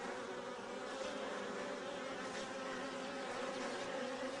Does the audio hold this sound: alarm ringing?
no